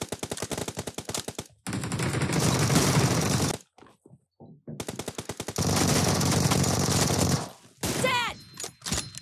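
Gunfire in PUBG rattles out in rapid automatic bursts, with long sustained volleys separated by brief silences and a few isolated shots, loud and close throughout.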